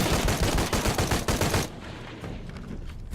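Rapid automatic gunfire in Shadow of the Tomb Raider, a loud dense burst of shots lasting over a second before cutting off into quieter rumbling.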